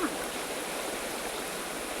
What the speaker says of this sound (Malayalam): വെള്ളം നല്ല ശബ്ദമാണ് അതങ്ങനെ കല്ലടിക്കുന്ന ശബ്ദം